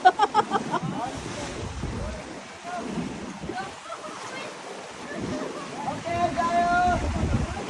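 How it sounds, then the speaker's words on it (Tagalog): A steady roar of strong sea waves and wind at Magic Island, Boracay, with people talking over it at times. "lakas ng alon"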